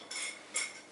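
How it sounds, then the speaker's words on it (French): Nutmeg grated by hand for a béchamel sauce, two short faint scraping strokes close by, quiet and alone. "vous râpez un petit peu de noix de muscade."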